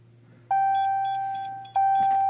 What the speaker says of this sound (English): Got 5 bleeps